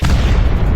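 A cartoon firecracker, lit with an incense stick and tossed into a pipe, goes off with a single loud, deep boom that fills the whole brief moment.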